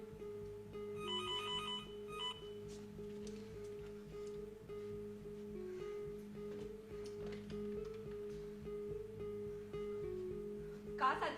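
A telephone ringtone chimes in a short electronic burst early on inside a home, over a steady ticking, rhythmic background pattern that continues throughout.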